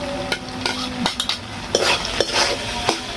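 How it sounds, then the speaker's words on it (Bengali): A utensil stirs fried egg into macaroni in a pot over a clay stove, with repeated scraping clinks against the metal and a soft sizzle underneath, no voices. "আমি আবার কিছুক্ষণ হচ্ছে মিক্স করে দেবো"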